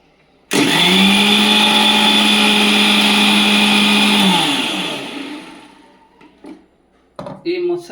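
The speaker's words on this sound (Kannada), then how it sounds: "ಆಮೇಲೆ ಈ ಮೊಸರನ್ನು ಗ್ರೈಂಡರ್ ಮಾಡಬೇಕು." A mixer grinder blends curd for spiced buttermilk, starting abruptly into a loud, steady motor whine that runs about four seconds, then winds down, followed by a few clinks and brief handling noises.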